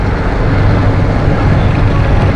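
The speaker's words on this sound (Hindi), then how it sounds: "यहाँ पर ट्रैफिक जाम मिला है मेरे को" Dense, loud traffic rumble fills a jammed street in Karachi, a continuous wash of engines and road noise without distinct horns or speech.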